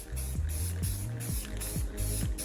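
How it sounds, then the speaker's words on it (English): Spray primer paint hisses onto an arcade cabinet part in short repeated bursts, each spray close and loud with a rhythmic mechanical pattern underneath. "I'll spray some primer on it."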